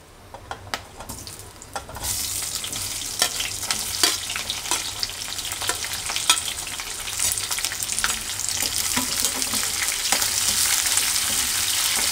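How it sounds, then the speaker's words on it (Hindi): Onions dropped into hot oil with cumin in a pan for a matar paneer makhana curry, some clicks and taps at first, then a sizzle that swells and holds steady with occasional stirring clicks, close and without talk. "प्याज को भी थोड़ा भून लेंगे"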